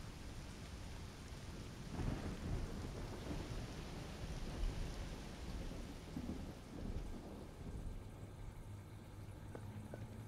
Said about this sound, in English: Oh good, it's raining again.